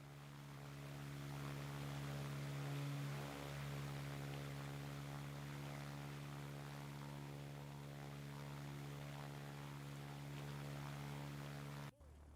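A WWII Gloster Gladiator biplane arrives in Ground of Aces, a WWII airfield base-building game. Its engine makes a sustained droning hum, steady and moderately loud, until it cuts off abruptly near the end.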